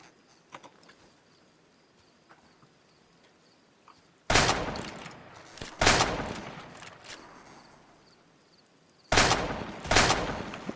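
Gunfire in the Roblox game The Walking Dead Online comes in three loud bursts of rapid shots, separated by quieter stretches of faint ambient noise.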